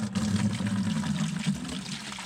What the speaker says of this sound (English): So we're filling the radiator from the bottom up.